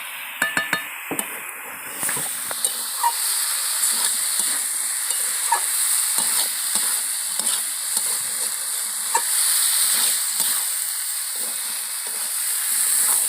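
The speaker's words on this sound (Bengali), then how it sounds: "তো আমি এর মধ্যে এবার বাঁধাকপি আর আলুর সিদ্ধটা দিয়ে দেবো। অল্প করে দিয়ে ভালো করে নেড়ে নেবো" Cabbage and boiled potato sizzle in hot spiced oil while a utensil scrapes and clinks against the pan in repeated stirring strokes, with a steady frying hiss underneath and a few sharp metal taps at the start.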